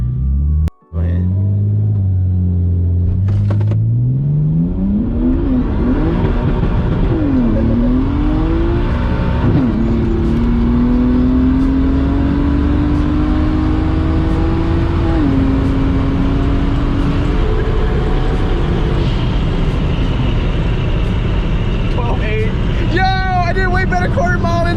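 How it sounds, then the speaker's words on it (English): Single turbo BMW 135i launching on a quarter mile run, the engine roaring loud and close as it climbs through several gears with a brief break at each shift, steady and heavy throughout, with people talking over it. "This is a 135 single turbo."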